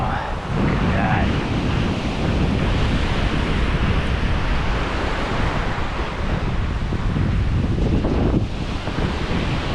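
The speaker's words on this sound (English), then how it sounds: "I'm feeling and hearing the power of the ocean" Ocean surf roars continuously at a Bahamas shoreline, a loud broadband wash with heavy wind buffeting the microphone throughout.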